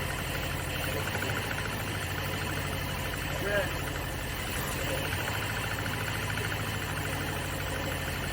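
A Toyota 3K engine in an '86 Suzuki Samurai runs steadily after a carburetor swap, a continuous mid-pitched drone with a slight bump partway through, while people talk nearby.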